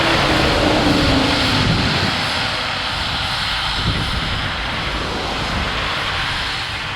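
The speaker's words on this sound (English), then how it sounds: "It's a John Deere 7530 with a drill." A 2008 John Deere 7530 tractor pulling a drill gives a loud, steady engine drone with broadband rumble, a faint whine fading early, and the sound holding evenly throughout with no talking.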